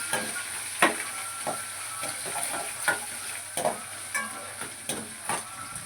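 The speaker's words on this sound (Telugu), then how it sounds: "పచ్చిమిరపకాయలు, అల్లం, అలాగే ఉల్లిపాయలు యాడ్ చేసుకుంటాం. వీటిని కూడా చక్కగా ఫ్రై చేసుకోవాలి." Green chillies, ginger and onions fry in a pan for an upma breakfast. A continuous sizzle is punctuated by repeated scraping stir strokes roughly every half second to second, close and moderately loud.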